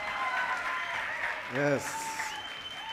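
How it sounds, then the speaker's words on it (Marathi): An audience at a youth gathering bursts into strong applause to welcome two pastors. The clapping stays steady and full throughout, and a voice briefly speaks partway through. "So with a mighty clap, let's welcome Pastor Peter and Pastor Jayashree"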